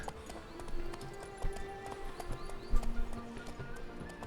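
Horse hooves clip-clop at a riding pace in the video game Witcher 3, with a tonal music bed and irregular louder hoof strikes throughout.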